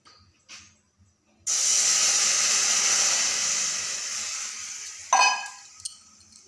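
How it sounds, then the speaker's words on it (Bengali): Milk poured into a hot pan of lightly fried, reddish-browned vermicelli for sweet semai, giving a sudden loud steady hiss and sizzle that lasts several seconds and slowly fades, ending in a brief clatter. "এখানে আমি দুধ দিয়ে দিলাম।"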